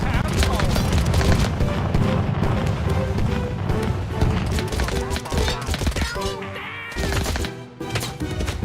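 Dense battlefield din from a TABS battle simulation: continuous crackling gunfire and heavy explosions pile up into a loud, chaotic wall of noise, with a brief dip before the barrage resumes.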